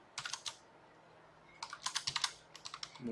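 A computer keyboard is typed on quickly in two short bursts, with crisp close key clicks and a pause between the bursts, while a file name is entered during a GIS software session. The room is otherwise quiet.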